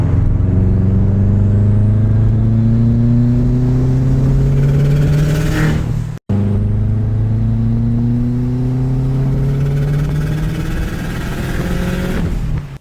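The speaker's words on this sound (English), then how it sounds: "the car was running very poorly" A tuned car engine running poorly on a lean fuel mixture revs loudly and continuously, its pitch rising steadily. The sound cuts out briefly midway, then resumes and climbs again.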